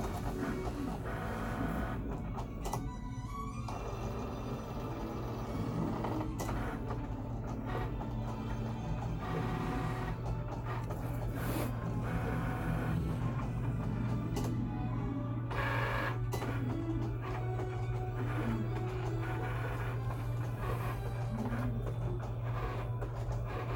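A Cricut cutting machine works steadily, a printer-like whir with a constant low hum and intermittent mechanical movements and clicks, fairly quiet, no talking.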